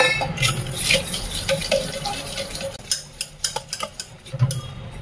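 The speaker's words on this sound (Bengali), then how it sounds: "ভালো করে এটাকে গুলে নেবো অল্প অল্প জল দিয়ে।" Gram-flour batter with salt, turmeric and ginger paste is stirred with small additions of water for kadhi pakora. Close wet scraping and swishing strokes grow into a quick run of rhythmic spoon taps against the bowl.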